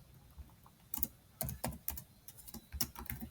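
Irregular bursts of close, crisp keystrokes on a computer keyboard, clustered in quick runs with short pauses, alone in a quiet room.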